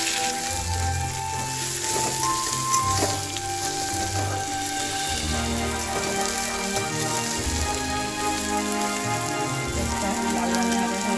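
Chopped onions sizzle and crackle steadily in hot oil, added after green chillies have browned for a potato and jackfruit-seed curry; a dense, continuous close frying hiss with no talk over it.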